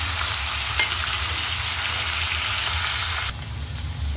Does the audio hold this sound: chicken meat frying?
yes